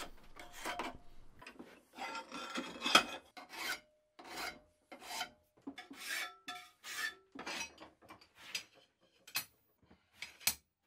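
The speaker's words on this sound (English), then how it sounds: "we just need to clean up and deburr all these edges" Hand file rasping along cut metal edges to deburr them, heard as a series of short, fairly close scraping strokes in an irregular rhythm with brief pauses between passes, no talking.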